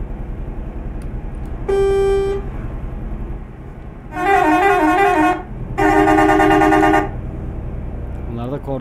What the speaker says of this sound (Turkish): Bunlar da kornalarımız.